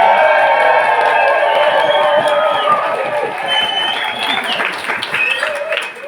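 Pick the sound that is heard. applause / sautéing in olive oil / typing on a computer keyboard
applause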